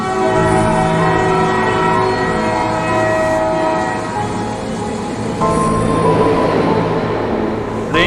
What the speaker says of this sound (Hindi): ट्रेन तो इस तरफ से आने वाली है। और वो देखो, ट्रेन आ भी गई है।